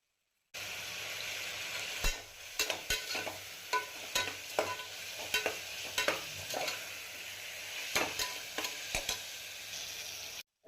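Two large tomatoes and mint leaves sauté in a pan under a low, steady sizzle. A spatula clacks and scrapes against the metal in irregular, close strokes.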